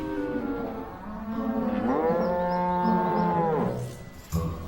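A cartoon cow lets out one long, loud, close moo that rises and holds before trailing off, followed by a brief knock.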